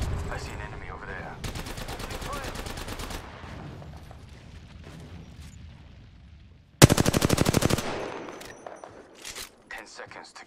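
Automatic gunfire in the shooter game Apex Legends, with a long rattling burst followed by a second loud close burst, then scattered shots, over game ambience.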